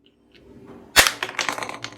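A realistic toy AK-47 firing a ball bullet: one sharp, loud crack, followed by a quick scatter of lighter rattling clicks and taps as the projectile lands and bounces, with faint handling noise beforehand.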